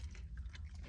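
Someone chews a crunchy baked snack made with oat flour, close to the mouth, with dense, continuous crunching and soft bites and no speech.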